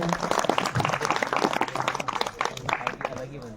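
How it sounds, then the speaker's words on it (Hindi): Applause at a farewell ceremony in Bharetidhar: a dense, steady wash of clapping from a gathered audience, with voices and chatter mixed in throughout. "एक बार जोरदार तालियां हो जाए।"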